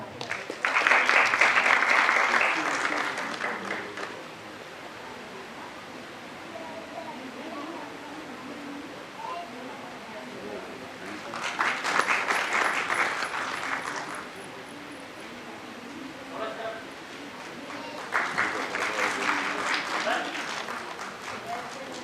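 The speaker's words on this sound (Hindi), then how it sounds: "एक बार जोरदार ताली" A theatre audience at a stage play event claps in three separate bursts of a few seconds each. A speaker talks between the rounds, and the applause sits at moderate loudness.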